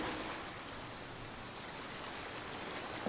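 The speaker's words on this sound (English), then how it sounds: "Taking a stroll in the middle of a downpour certainly rouses the spirit." Steady heavy downpour in the Genshin Impact video game, a dense unbroken hiss of rain that stays even and loud throughout with no voices.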